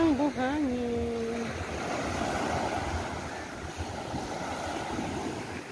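Rough sea waves surge steadily onto the shore of a beach resort during a storm, a constant roar with wind buffeting the microphone. A brief tonal whine rings out at the start.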